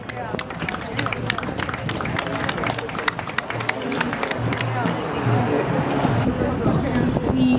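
Outdoor concert crowd outside Tomáš Baťa's villa claps to welcome a singer, a busy patter of many hands that builds slightly louder toward the end, with some crowd murmur and voices underneath.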